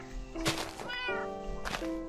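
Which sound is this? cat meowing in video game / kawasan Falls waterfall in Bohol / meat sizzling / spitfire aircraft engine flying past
cat meowing in video game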